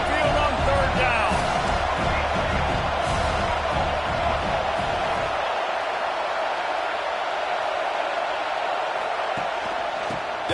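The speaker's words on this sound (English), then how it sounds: "The Tide crowd rolling noise down onto Saban Field on third down." Loud, steady roar of a packed Alabama Crimson Tide stadium crowd on third down at Saban Field in an NCAA football video game against Buffalo, a dense continuous wash of noise whose low rumble drops away about halfway through.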